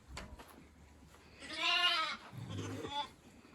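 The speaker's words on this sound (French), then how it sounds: "Et là, on voit les brebis." Sheep bleat on a farm near a sheepfold, one loud drawn-out bleat followed by a lower, shorter call against quiet background noise.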